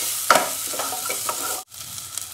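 Tomatoes sauté with ginger-garlic paste in a hot pan for Chettinad mushroom chukka, giving a steady close sizzle with a sharp clatter of stirring near the start and a brief break before the frying noise resumes.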